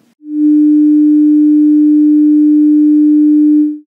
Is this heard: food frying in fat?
no